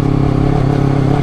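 A 2019 Honda CBR250RR two-cylinder motorcycle engine pulls steadily uphill, a continuous close mechanical drone with a low, even rumble and no sharp revving, heard alone without talk.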